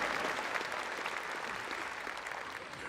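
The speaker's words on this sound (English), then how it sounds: "yeah, you can clap for that, give it up" Dense, steady applause from a large audience at a university convocation ceremony, a continuous wash of many hands clapping that holds at an even level throughout.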